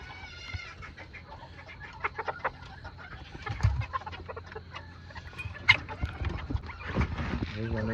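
Old English Game bantam chickens in a barn cluck and call throughout, with scattered rooster-like crows and busy farmyard bird noise at moderate loudness, a few sharper calls standing out near the middle.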